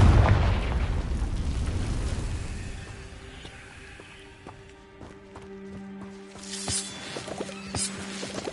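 A Confringo fire spell in Hogwarts Legacy lands as a loud, booming blast at the start. The rumble slowly fades, and a few lighter game sounds and tones follow.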